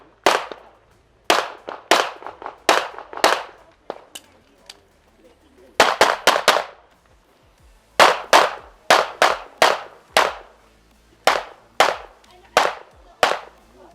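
Handgun shots fired in quick bursts on an IPSC competition stage in the production division at a handgun world shoot, with sharp, loud cracks in rapid clusters separated by short pauses and no talking.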